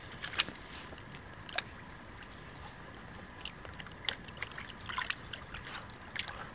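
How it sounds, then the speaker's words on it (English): Water swishing and trickling as gold concentrates are washed in a pan in a billabong, a soft steady sloshing broken by brief splashes and drips, fairly quiet throughout. "now we'll wash it up in the Billabong and see how much gold we've got in this pan."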